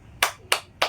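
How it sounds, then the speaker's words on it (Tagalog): Three sharp, separate claps from a class applauding group four during a lesson on the pandanggo sa ilaw folk dance, spaced evenly and close by. "Bigyan natin ng palakpak ang pangkat apat."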